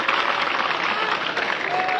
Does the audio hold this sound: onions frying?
no